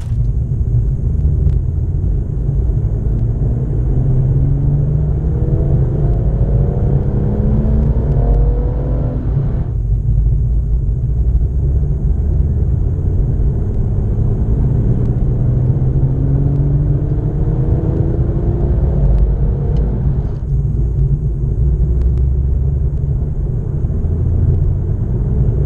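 BMW M140i engine in comfort throttle mode, a steady loud rumble with rising gear-change sweeps as the car accelerates through gears in two runs, no talk.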